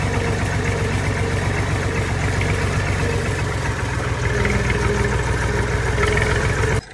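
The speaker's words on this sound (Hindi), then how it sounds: "ये ट्रैक्टर आ गया है हमारा।" A tractor engine idles on farmland, with a steady, low, rumbling beat that stays close and constant for several seconds, and no talk.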